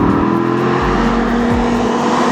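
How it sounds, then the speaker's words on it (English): An SRT Viper's V10 engine roars loud and close, a dense sustained drone that dips and climbs as the revs shift between gears, with no voices. "It's very loud, obviously. I have never liked the sound of V10s."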